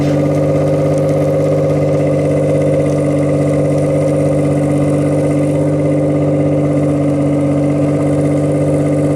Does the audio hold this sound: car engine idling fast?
yes